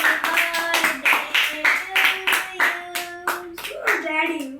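A group claps along in a rhythmic, steady beat at a boy's twelfth birthday party, close and loud, with a voice and singing mixed through the claps.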